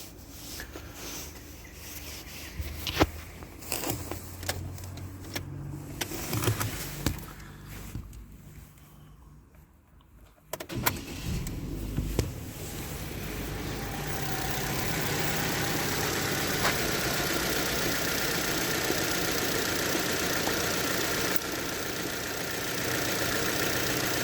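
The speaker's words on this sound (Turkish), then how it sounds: "Stop etti bir daha marş yapacağız." A Chevrolet Cruze running on LPG with a BRC gas system, under repair of its regulator, is cranked again after stalling. Uneven rubbing and clattering noises give way to a steady, close engine idle that holds to the end.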